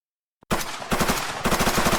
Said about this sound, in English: Nikki, would you mind shooting your rifle, please?